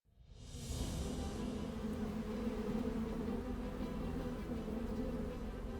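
A swarm of bees around a wild honey hive in the Himalayas fades in and then hums as a dense, steady buzz, close and continuous with no voices.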